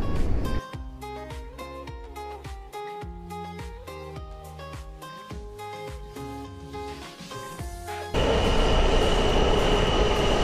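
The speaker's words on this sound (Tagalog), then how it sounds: "Ito na ang train papuntang Glenmont." A Washington metro Yellow Line train pulls into the station, its wheels squealing and singing in shifting tones under a steady rumble before a loud broadband rush of air and motion takes over near the end.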